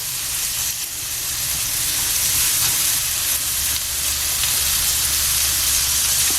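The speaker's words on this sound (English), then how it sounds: "I'm going to add that to the skillet and let it cook on each side" Deveined, tail-on shrimp sizzle steadily in a hot skillet, a dense, even frying hiss that holds at constant loudness with no voices over it.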